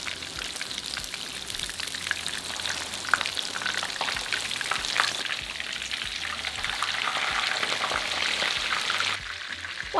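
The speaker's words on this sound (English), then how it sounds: "Once the oil's hot, we want to fry the pork steaks on a medium heat for about 2 to 4 minutes on each side" Pork steaks sizzle in hot oil in a frying pan over medium heat for tonkatsu, a dense continuous crackle with scattered sharp pops, steady and close throughout.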